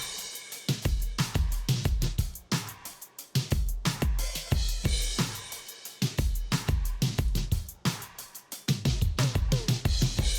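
A drum kit of trap drums with Zildjian A series cymbals plays a steady groove: punchy kick and snare hits in a driving rhythm, washed by bright cymbals, loud and close with no voices.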